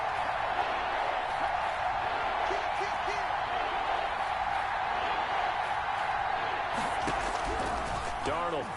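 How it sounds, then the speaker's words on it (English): A football stadium crowd roars steadily throughout, a dense sustained wash of cheering and noise with a few whistles and squeals rising near the end, while commentators talk over it. "Crowd getting in it a bit already."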